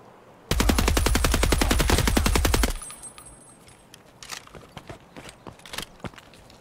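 Rapid automatic gunfire in Escape from Tarkov, a dense loud burst of about two seconds followed by scattered single shots and footsteps.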